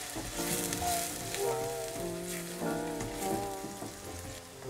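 Half a large onion, about 300 grams and finely chopped, sautés in melted butter in a pan for Christmas lasagna, giving a soft, even sizzle under a faint tonal background.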